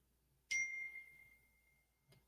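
A phone chimes once with a clear text-message ding that rings out and slowly fades, followed by a faint soft knock near the end, alone in a quiet room.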